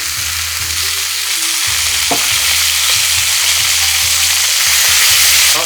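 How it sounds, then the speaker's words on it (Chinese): Fish fries in oil in a pan, a close, continuous bright sizzle with spattering crackles and occasional low clunks of a utensil against the pan, no talking. "好，这一面也煎好了"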